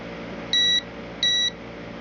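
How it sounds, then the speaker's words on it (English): A continuity tester probing a CP System III arcade circuit board sounds two short, high electronic beeps about half a second apart, close and fairly quiet over a steady low hum. "it should make a beep noise"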